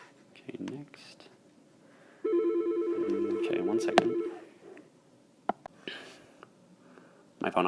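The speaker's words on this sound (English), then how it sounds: "My phone always starts ringing when I'm trying to make a video." A mobile phone rings in a quiet room: an electronic, warbling ring of about two seconds, moderately loud, with a brief spoken aside after it.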